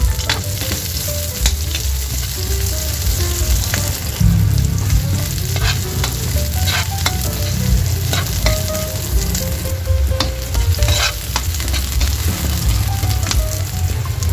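Onions sizzling and frying in a pan while cooking pork spare ribs caldereta, a loud steady crackling hiss with stirring scrapes, continuous and close with no talk.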